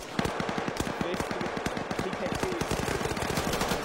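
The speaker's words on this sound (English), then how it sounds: "So much gunfire going on right now" Rapid gunfire in a video game, a dense stream of sharp automatic shots crackling steadily and loudly throughout with no pauses.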